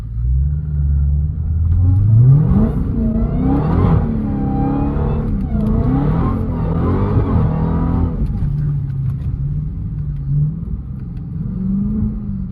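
A 1,000 hp Dodge Hellcat engine roars hard through a top-speed run, its pitch sweeping up through gear after gear in loud, continuous acceleration with brief shifts between pulls.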